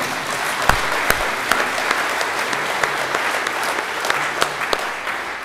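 An audience at an interfaith church service in Tulsa bursts into sustained clapping, dense and steady for several seconds with a few sharper nearby claps standing out, loud and close.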